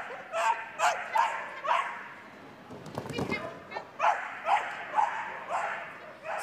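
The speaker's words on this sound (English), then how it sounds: "She's going to bark all her way around the course." A cocker spaniel barks repeatedly in quick, sharp yips while running a dog show agility course, close and loud, in rhythmic bursts with a brief pause in the middle.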